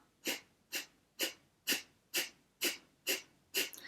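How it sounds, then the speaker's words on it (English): Eight sharp, evenly spaced puffs of air are pushed out through the nose during yoga breathing for the hips and lower back, close and clear with no talk. "begin to puff air out your nose"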